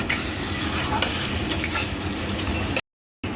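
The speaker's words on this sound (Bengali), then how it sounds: "ভালো করে এটাকে কষিয়ে নেব" Koi fish masala stir-fried in a pan, with a close sizzle broken by repeated spatula scrapes and stirs, then a brief gap of silence before the frying resumes.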